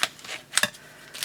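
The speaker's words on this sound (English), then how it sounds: "So let's just cut this open" A craft magazine package is cut open in a few quick, sharp snips and crinkling rustles, close and fairly quiet, with short gaps between cuts.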